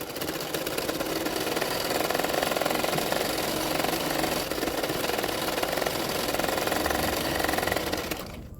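An electric sewing machine stitches lining fabric on a Katori blouse, a fast, steady mechanical rattle that runs without a break for several seconds before slowing at the end.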